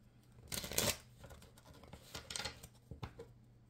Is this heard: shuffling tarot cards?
yes